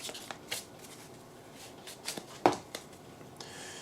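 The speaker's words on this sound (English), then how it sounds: "So now I want to throw an oracle card from the Whispering Woods Oracle deck. So we're going to go ahead and shuffle" Oracle cards from the Whispering Woods Oracle deck are shuffled by hand close up, a quiet run of soft riffling swishes and light papery taps with a few sharper flicks.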